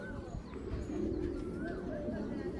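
Pigeons in a loft give soft, low cooing calls over a murmur of background noise, close but fairly quiet, with a few faint chirps mixed in.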